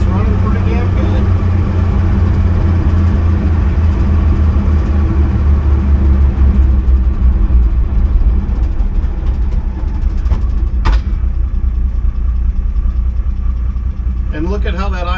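A warmed-up car engine settles into a low, steady idle rumble close by. A voice talks over it.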